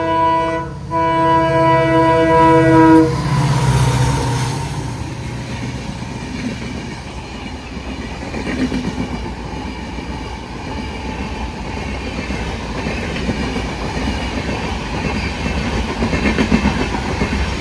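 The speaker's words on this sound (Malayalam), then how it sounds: "വേണ്ടാ നോക്കിയേ, പൂനെയുടെ WDG4 ട്വിൻസ് ആണ് അതിൻ്റെ ലോക്കോ." A fully loaded freight train hauled by twin WDG4 diesel locomotives passes by; a loud horn blast opens, then continuous wagon rumble and rhythmic clickety-clack carry on steadily.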